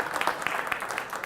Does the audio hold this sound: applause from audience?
yes